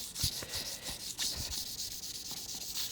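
Rhythmic rubbing strokes of 600 grit abrasive paper worked back and forth along a steel blade by hand, each pass a close dry scrape in a steady repeating pattern.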